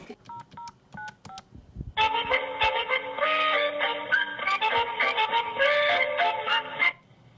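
Telephone keypad tones beep in a quick series of short dialing presses, followed by a steady, loud, multi-tone phone signal that runs for several seconds before cutting off.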